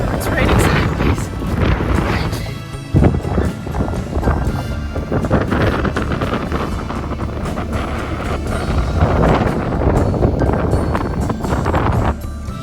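Strong desert wind with sideways rain during a storm near mud flats roars and buffets the microphone loudly and continuously, with rough gusts throughout.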